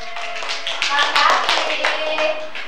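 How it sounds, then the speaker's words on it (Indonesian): Applause in a classroom, a short burst of hand clapping from several people, close and fairly loud, with children's voices mixed in under it. "Beri tepuk tangan dulu."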